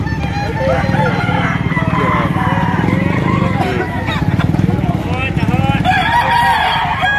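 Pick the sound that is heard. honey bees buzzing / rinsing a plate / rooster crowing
rooster crowing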